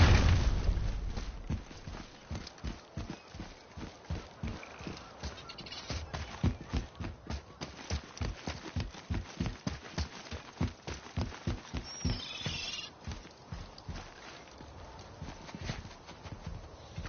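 Horse hooves clip-clop in a steady, rhythmic trot across the God of War video game, loud and close, with a brief bird-like chirp partway through and no talking.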